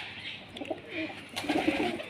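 Racing pigeons at a one-day pigeon-flying cup in Haripur coo softly in low, burbling phrases, faint and close, against a quiet outdoor background.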